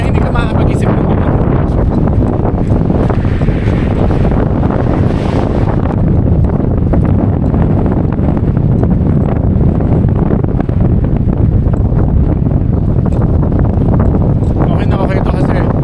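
Strong wind buffets the microphone on the CCLEX bridge in Cordova, Cebu, a loud continuous roar with gusty rumble throughout, sounding close and relentless with no break.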